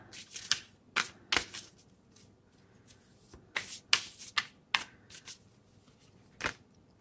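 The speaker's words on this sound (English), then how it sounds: "Oracle cards." Oracle cards are shuffled in several quick, crisp bursts of riffling and snapping, close and fairly loud, separated by short quiet gaps.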